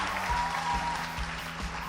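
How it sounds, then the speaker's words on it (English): Audience applause at a school debate award ceremony: a brief, dense burst of clapping from a room full of people. "Let's give her another round of applause."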